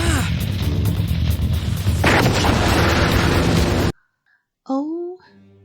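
An explosion roars in a Naruto anime battle scene, a loud, sustained blast with rumbling debris that runs for several seconds and then cuts off abruptly. A character's voice follows briefly after a short silence.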